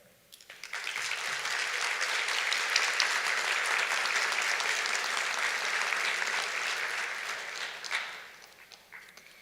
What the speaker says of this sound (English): join in applause for their loved ones' unconditional support